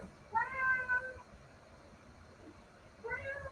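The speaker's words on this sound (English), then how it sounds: "Can you hear the cat?" A nearby cat meows twice, one long drawn-out meow followed by a shorter one after a pause, against a quiet room background.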